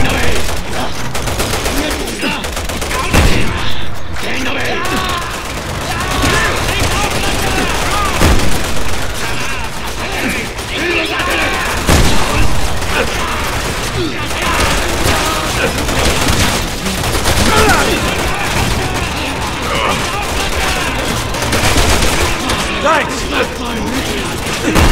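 Sustained bursts of gunfire and heavy shooting in Resident Evil 5 or 6 played split screen on Nintendo Switch, dense and loud throughout with booms and mechanical clatter mixed in, and voices now and then.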